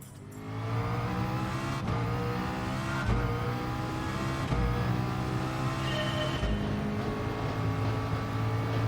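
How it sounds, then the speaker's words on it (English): McLaren VGT Group 1 race car engine in Gran Turismo Sport at Kyoto Driving Park Yamagiwa, a loud, steady high-revving drone with rising and falling pitch as gears shift every second or two, continuous throughout with no talk. "this is just a 2-lap race in a McLaren VGT against other Group 1 cars"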